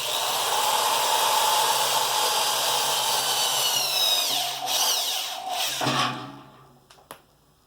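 A power drill bores holes through a sink for a van build, a loud, sustained grinding whine that stops around the six-second mark, leaving a few brief clicks and handling knocks before silence.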